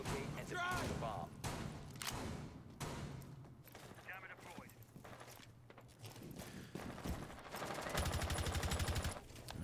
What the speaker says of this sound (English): A lot of bullets flying through towards the CCTV room, but there's nobody inside